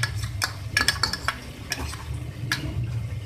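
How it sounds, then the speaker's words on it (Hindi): Yogurt sizzles as it fries in a pan for a beef kofta curry, under a steady low crackle, while a spoon stirs and scrapes against the pan in scattered bright clinks close by. "दही को डालने के बाद भी हम इसको करेंगे भून लेंगे।"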